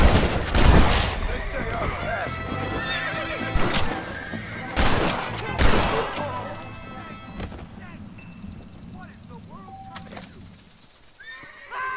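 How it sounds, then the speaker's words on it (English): Gunfire from a Red Dead Redemption western video game, several loud sharp bursts in the first half among horse whinnies and hoofbeats, fading to a quieter stretch of game ambience with a voice talking over it. "Now, I can shoot the rope easily."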